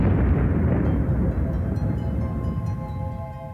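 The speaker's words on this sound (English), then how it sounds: "they end their life in a huge explosion" Supernova explosion sound effect: a loud, deep, rumbling boom that starts at full force and slowly decays over a few seconds, with faint sustained tones emerging beneath the fading roar.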